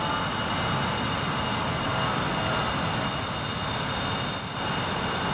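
A-10C jet engine in a DCS flight simulator, a loud steady roaring whine that holds constant throughout with no pauses.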